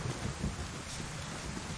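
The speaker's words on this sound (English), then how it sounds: "I love the sound of thunder," Thunder rumbles low and heavy over steady rain in the survival video game DayZ, a continuous loud storm wash with deep rolling booms and no talking.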